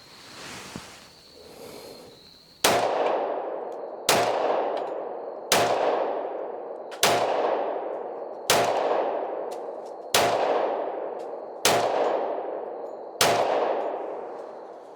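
Nine sharp, loud pistol shots from a Rock Island 10 mm 1911 fed by an Ed Brown magazine, fired at a steady pace about 1.5 seconds apart, each with a ringing decay, after a brief stretch of rustling handling noise.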